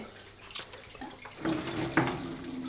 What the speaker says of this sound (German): Dann wollen wir jetzt Wasserwechsel machen.